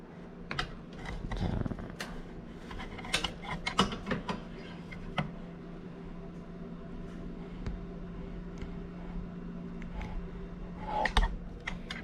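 Clicks and mechanical rattles come from the lock of an Elektra Maxi coffee machine being pulled and released, scattered sharp snaps and small clacks of varying loudness, close up, with no talking.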